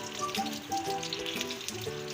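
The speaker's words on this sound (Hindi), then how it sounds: "ये सौंफ जाएगी इसी में।" Fennel seeds sizzling as they hit hot oil while spices are added for a pickle, a close crackling fry with scattered pops and small bright spits over a steady hiss.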